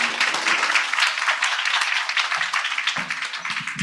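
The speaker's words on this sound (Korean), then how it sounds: "다시 한번 우리 석혜진 리더님께 다시 한번 큰 박수 부탁드리겠습니다" An audience at an Amway business presentation in Korea claps steadily, a dense, even patter of many hands that carries on without a break. Occasional faint voices sound underneath.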